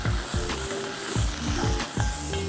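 Soaked moong dal stirred into a hot pan with curry leaves while cooking millet khichdi, making a steady sizzle with periodic soft scraping strokes of the spoon, close and alone with no talking.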